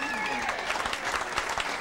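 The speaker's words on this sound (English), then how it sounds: "you have to join me in giving those guys on stage a great round of applause" Audience applause for the band on stage at a live country music show, a steady wash of clapping through the whole short span with faint traces of music or voices underneath.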